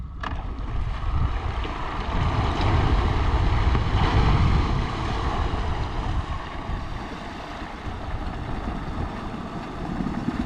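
An outboard boat motor churns loudly and steadily as a boat works to free itself in a shallow Arkansas channel, a rough continuous engine roar with wind buffeting the microphone.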